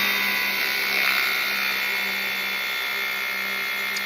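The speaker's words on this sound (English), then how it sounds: "So I keep the sander pulling away from me at all times." A sander grinds steadily against a semi truck drive wheel, producing a loud, close, continuous whirring hum that holds an even pitch with no pauses.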